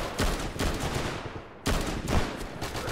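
Gunfire in the World War II shooter Easy Red II at the Battle of Stalingrad Volga River crossing: a dense, loud volley of overlapping shots and bursts, briefly pausing then resuming, close and continuous.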